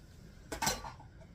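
A utensil scrapes browned bits off the bottom of a soup pot for a creamy bean and sausage soup. It makes one short, close metallic scrape against the quiet and is not spoken over.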